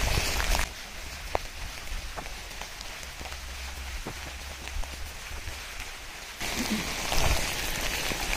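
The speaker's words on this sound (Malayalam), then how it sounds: "നല്ല മഴ," Heavy rain falls in the Don Hills of Gujarat, a dense continuous patter on surfaces close by with a few sharper drip hits, swelling louder near the end, with no one speaking.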